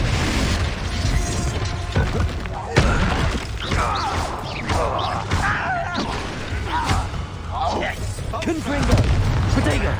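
Rapid spell combat in Hogwarts Legacy with Confringo blasts: repeated thumping booms and crashes layered over a busy game soundscape, with a voice calling out throughout.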